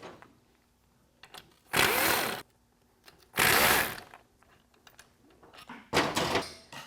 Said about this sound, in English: Now we're going to remove the 7 pump bolts.